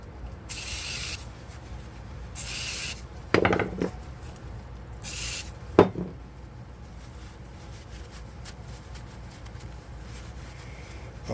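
Degreaser is sprayed in several short hissing bursts onto a greasy lock coated in caked-on oil, followed by brief scrubbing and tapping sounds against a quiet background, with no one speaking.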